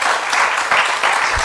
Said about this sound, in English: Let's give them a round of applause as they come forward.